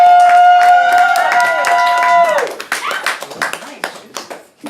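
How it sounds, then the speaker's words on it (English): A poetry slam audience in Orlando, Florida claps and cheers, the applause loud and dense at first, then thinning into scattered individual claps while a person talks over the tail of a sustained tone. "Keep that applause going."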